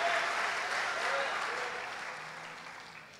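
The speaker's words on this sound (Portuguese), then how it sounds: "Então você pode aplaudir a Jesus e glorificar o nome dele" A church congregation applauds during a service, a dense wash of clapping that starts loud and slowly fades over a few seconds.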